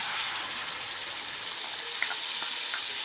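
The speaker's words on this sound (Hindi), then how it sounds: "अब ये टमाटर की प्यूरी डाल रहे हैं।" Steady, dense sizzling of tomato purée frying in hot ghee, loud and close, with faint clinks of stirring near the end.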